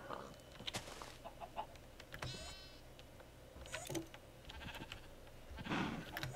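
Sheep bleating in a farm video game, several short faint bleats scattered over a low background hum, with brief clicks and other farm-animal calls around them.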